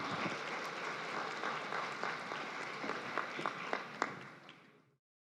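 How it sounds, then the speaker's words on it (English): Applause for panelists at a corporate governance conference: a moderate, fairly distant round of clapping from a seated audience, with a few sharper individual claps standing out near the end before it abruptly cuts off. "I'd like to hear your applause for the panelists"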